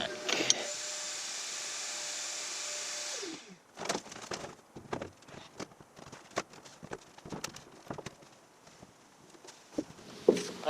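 A car's power window motor hums steadily for about three seconds, close and even, then winds down with a soft thunk as the glass stops, followed by scattered knocks and rustling inside the vehicle.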